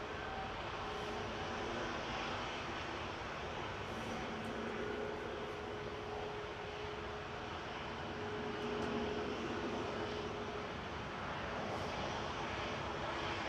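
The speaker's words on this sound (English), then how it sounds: "Brussels Airlines heading back to Brussels with one of their A320 Neos" A Brussels Airlines Airbus A320neo departs Manchester, its jet engines producing a sustained, even roar at moderate distance with a faint whining tone running through it, alone without voices.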